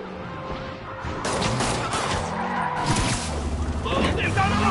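Reckless car traffic in the Spider-Man video game, with engines, skidding tires and crash-like impacts building into a loud, busy street mix, while a voice speaks over it.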